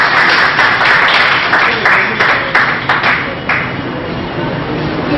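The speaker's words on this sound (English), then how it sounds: "Let us give them one more round of applause." Guests at the AEG-JU ECSBC workshop inauguration receive a loud round of audience applause, sharp claps crowding together at first, then thinning and fading toward the end.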